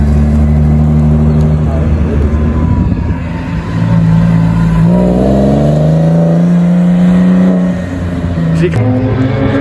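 A Nissan GT-R race car at the Le Mans circuit drones loudly and steadily, its engine pitch climbing and shifting through revs as it passes close by, with a voice speaking over it.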